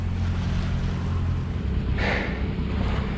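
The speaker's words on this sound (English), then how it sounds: "We've got some nice westerly winds." Steady westerly wind buffeting the microphone on a sailing boat, a constant low roar with water and hull noise beneath, plus a brief hissing gust of spray near the middle; no voices.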